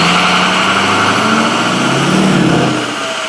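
A Ford 6.0 diesel pickup engine held at a loud, sustained rev close by, a dense steady roar that eases slightly near the end.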